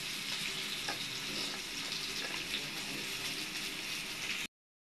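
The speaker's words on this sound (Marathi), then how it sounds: "बघा मित्रांनो, अशा प्रकारे इथं आपल्याला मच्छी फ्राय करून घ्यायची आहे." Rava-coated rohu fish pieces frying in a pan, a steady close sizzle with crackling bubbles that continues evenly before stopping abruptly.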